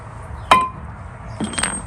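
A single sharp metallic clink rings out close by as the brake bracket is taken off a 2004 Chevy Silverado 2500 during knuckle replacement, followed by a softer clatter of parts being handled.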